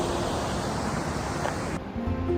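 A mountain river in the Pyrenees rushes steadily close by, a broad continuous wash of flowing water with wind-like hiss, holding even throughout with a slight shift near the end.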